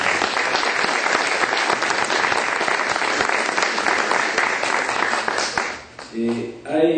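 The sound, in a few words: audience applause at a forum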